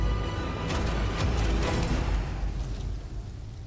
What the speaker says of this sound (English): That explosion looks amazing.